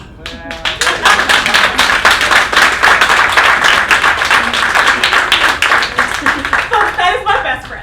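Sustained live-theatre audience applause with dense clapping that swells and holds steady throughout, fading slightly near the end, with a voice faintly calling out over it.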